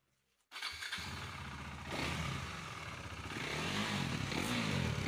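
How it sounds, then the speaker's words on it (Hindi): Kawasaki Z900 superbike engine with an opened exhaust cranks and fires after a short silence, settling into a loud, close rumbling idle that swells and grows throatier toward the end, with no talking. "पहले वो एग्जॉस्ट स्टार्ट करके देखना आवाज़ कैसा है"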